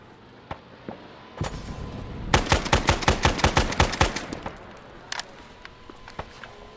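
Enemy gunfire in Arma 3, a rapid burst of about a dozen sharp shots fired in quick succession, loud and close, with a few scattered single cracks before and after.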